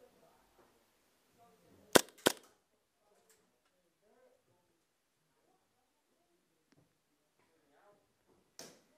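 Airsoft gun firing during an indoor CQB skirmish, two sharp close cracks in quick succession followed later by a single fainter shot, with quiet scattered voices in between.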